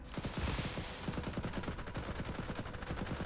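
Infantry gunfire in the strategy video game Global Conflagration rattles as a continuous rapid machine-gun chatter with overlapping shots, steady and moderately loud across a short stretch.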